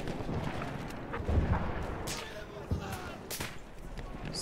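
Gunfire in a Battlefield 1 match, scattered shots and a few heavier booms spread through a dense battle din, with a voice talking over it.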